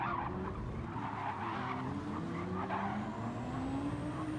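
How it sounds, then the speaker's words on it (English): A race car in Gran Turismo 7 at Monza brakes hard, tires skidding and squealing in rising, wavering tones over a continuous engine drone, sustained and close. "just whacks the brakes on as he nearly goes in the back of me"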